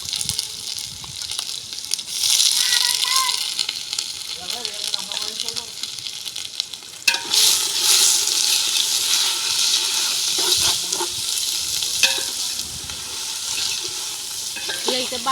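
Ginger paste sizzling and frying in hot oil in a home kitchen as festive non-veg dishes are cooked, with stirring scrapes and a steady crackle that surges louder midway, voices talking over it.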